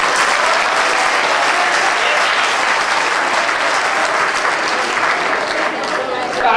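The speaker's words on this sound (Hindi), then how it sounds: "आप लगातार तालियां बजाते रहो।" A live Hindi comic poetry crowd claps continuously, a loud, dense and unbroken wall of applause that never lets up from start to finish.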